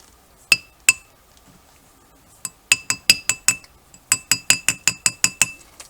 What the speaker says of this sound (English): This is just a little, like I said, a little plastic hammer.